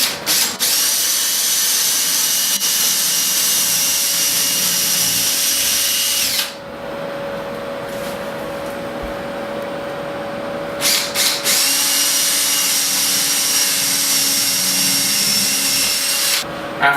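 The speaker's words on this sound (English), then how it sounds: "we're just going to pre-drill a 1/4 inch hole through the Onyx wall panels" A power drill whines loudly as it pre-drills a 1/4 inch hole through an Onyx shower wall panel, pausing briefly in the middle before spinning up again for another long run.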